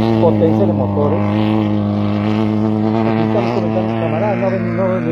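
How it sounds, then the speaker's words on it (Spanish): Off-road race vehicles in the Baja 300 from Los Cabos to La Paz, a loud roaring engine with strong harmonic tones holding close, its pitch wavering as it passes. "Potencia de motores."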